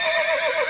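A horse neighs in a single sustained whinny, a loud wavering high-pitched call heard close and alone.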